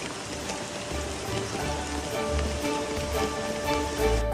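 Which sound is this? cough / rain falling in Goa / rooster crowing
rain falling in Goa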